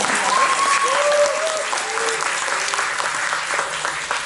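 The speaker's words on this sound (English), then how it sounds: "let's give a big round of applause for our people" Sustained applause from a seated audience at a fundraiser address, a steady wash of clapping with a voice speaking over it at the start.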